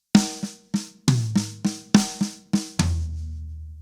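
A drum fill with ghost notes on snare, rack tom and floor tom: about eight crisp, close hits in a quick, even rhythm, ending on a deep floor-tom stroke that rings out.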